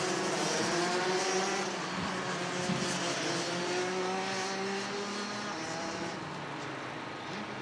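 A pack of DD2 racing karts rolls toward the start of a final in tight formation, a steady, fairly loud blend of several engines droning and rising slightly in pitch as they close in, with no talk.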